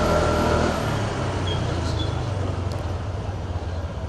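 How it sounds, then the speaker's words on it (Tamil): Dense road traffic on a street in Portugal: a steady, close rumble of engines and tires with no breaks, loud throughout. "அப்பா எவ்வளோ டிராஃபிக்கோ அப்பா"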